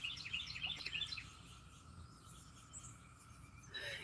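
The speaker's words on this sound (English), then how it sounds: "we're listening to the birds" Birds calling at dawn in an outdoor morning setting, with a flurry of high chirps and tweets in the first second, then quieter scattered calls over a steady insect-like hum, moderately distant.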